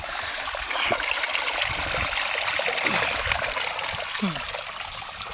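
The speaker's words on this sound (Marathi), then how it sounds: "पटकन चालू करू आता पाणी चालू केलं" Water runs from a pipe and trickles steadily in a continuous hiss, with a few faint low thumps and chirps beneath it.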